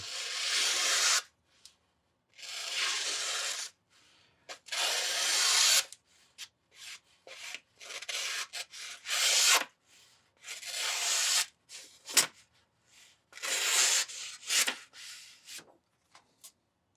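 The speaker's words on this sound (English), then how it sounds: "Let's see how this knife cuts." A Benchmade Anthem pocket knife cuts with short rasping, scraping strokes that come in repeated close bursts with brief pauses between them, with no talking.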